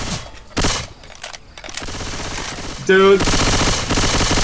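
Bursts of automatic gunfire in Left 4 Dead 2, loud and fairly close, ripple through a busy game soundscape with a sharp tonal effect midway, while someone speaks briefly.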